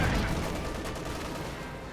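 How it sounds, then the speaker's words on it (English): In Company of Heroes 2, an M36 Jackson tank destroyer fires, a heavy booming shot with dense rumbling low end at the start that decays into battle noise. "the Jackson fires into the smoke here, trying to catch the Panzerkampf 5 here"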